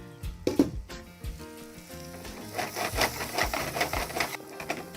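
Chopped onions sizzle and fry in a pan during a Kerala cooking show. The crackle is close and continuous, with scattered louder pops and scraping, and no one talks over it.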